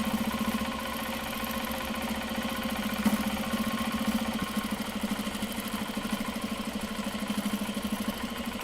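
Domestic sewing machine stitching down a seam on a Japanese fabric bag, a steady rapid mechanical hum and needle patter running continuously and fairly close, with no talk over it.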